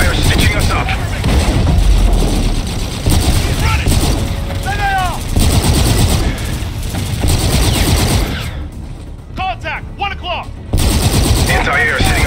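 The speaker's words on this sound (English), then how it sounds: "AA guns are engaging jackals. AA fire stitching us up." Heavy anti-aircraft gunfire in a Mars orbit space battle from the Call of Duty Infinite Warfare campaign: dense, continuous automatic bursts and booms, loud and close, mixed with radio-like voice chatter and a brief lull before firing resumes.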